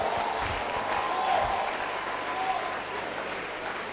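A church congregation in Yopougon claps and cheers in a sustained burst of applause filling the hall, with crowd voices mixed in throughout.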